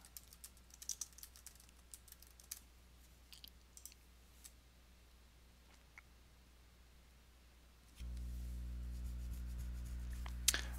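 Typing on a computer keyboard: quiet, uneven clicks and taps tapping along, then a steady low hum takes over toward the end.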